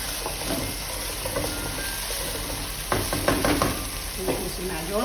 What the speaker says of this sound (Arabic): نحمس المعجون في الزيت.